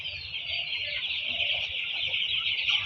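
Chickens on a poultry farm, about twenty days old, keep up a steady chorus of calls, dense and continuous throughout with no talking.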